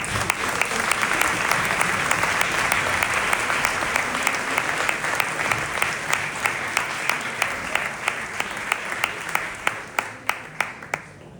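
An audience at an Asturian Christmas folk music gathering applauds a folk group with sustained, dense clapping that thins toward the end into a few separate claps.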